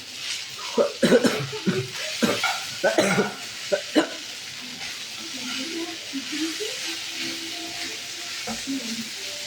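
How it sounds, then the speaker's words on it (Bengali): Paneer stirred into pasta frying in a pan: a quiet sizzle with a run of scraping spoon strokes, then a gentler, fading hiss. "আমার পাস্তাটা মোটামুটি ভাজা হয়ে গেছে, এর মধ্যে আমি পনিরটা মিশিয়ে দিলাম।"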